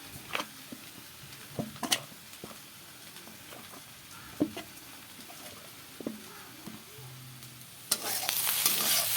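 Potatoes frying in a pan for a breakfast of flatbread and fried potatoes, a quiet sizzle broken by scattered scraping clicks of stirring, then a louder hiss near the end.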